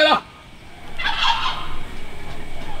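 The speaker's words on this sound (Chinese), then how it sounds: "把那小鸭子抓一只来了" A large duck is grabbed by hand and lets out a sharp squawk, then a second, longer burst of harsh calls, close by against quiet outdoor background noise.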